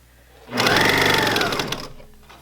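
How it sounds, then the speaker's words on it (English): A sewing machine stitches a seam through two rectangles of cotton fabric at a medium stitch length: a steady, close mechanical whir that runs for just over a second, then stops, with no talk. "But it is a rectangle of 2 cotton fabrics, so I'm not too worried about it with this machine."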